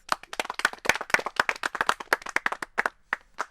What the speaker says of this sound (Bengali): এটা ভালো শট হইলো হাততালি দিবেন না সবাই?